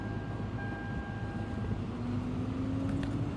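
A Lexus LS460 blower motor fan running at full blast: a steady, loud whooshing drone with a faint rising whine, running continuously without pause.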